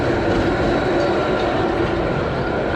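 A continuous rumbling roll of a family roller coaster train running along its track at Story Land, New Hampshire, steady and fairly loud with faint rattling, no voices.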